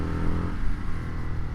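A deep Indian FTR1200 motorcycle airbox intake roar surges as the engine accelerates, loud and close, with a rumbling, slightly rough texture.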